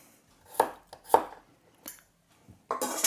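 Zucchini being cut into smaller pieces on a kitchen board, with a few sharp, separate knife chops spread out at uneven intervals and then a denser burst of cutting at the end, close and clear.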